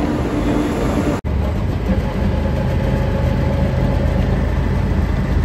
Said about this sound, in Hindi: ये हमारी ट्रेन घुस रही है।